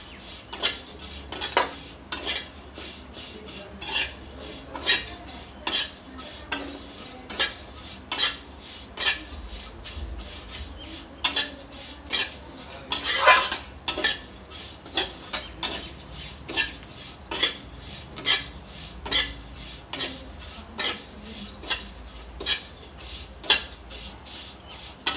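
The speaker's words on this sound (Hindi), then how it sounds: "इसको चलाते हुए अच्छे से भून लें।" Vermicelli roasting in a pan for kheer, stirred continuously so that a metal spoon clatters and scrapes against the pan in a steady, brisk rhythm, close and fairly loud, with no voices.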